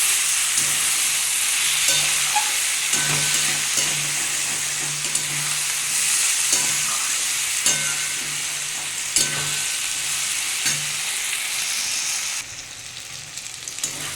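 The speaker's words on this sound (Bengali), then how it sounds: "আমি একটু সামান্য জল দিয়ে দেবো দিয়ে বন্ধুরা ভালো করে কষে নেবে" Spices with beetroot, carrot and peas sauté in a pan, a steady dense sizzle with repeated scraping stir strokes, close and continuous, easing slightly near the end.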